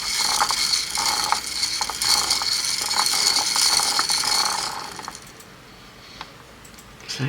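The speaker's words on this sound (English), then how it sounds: "can you hear my beads flying all over the place?" Seed beads scattering from a bead spinner, a rapid run of small clicks and rattles against a hard surface that stops abruptly near the end, no voices.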